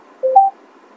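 A Hyundai Verna 2025 in-car voice assistant gives a single short, clean electronic beep of two quick rising tones, isolated against near silence.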